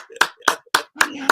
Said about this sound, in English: You need a round of applause for that, man.